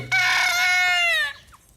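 A rooster in a backyard poultry flock kept for hens crows once, loud and close, a single drawn-out call lasting about a second, then quiet.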